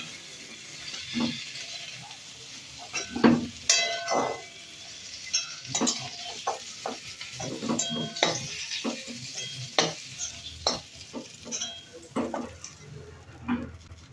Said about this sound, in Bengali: এইরকম লাল লাল করে পটলগুলো ভেজে নেব বন্ধুরা।